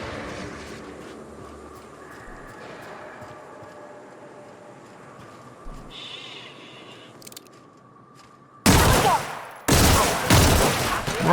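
Gunfire aimed at marauders in The Outer Worlds, a few sharp loud bursts arriving near the end after a stretch of quieter ambient game sound.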